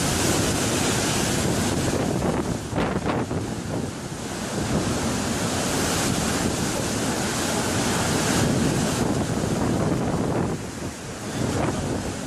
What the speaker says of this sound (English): Huge waves hit Stina, ferry from Holyhead to Dublin.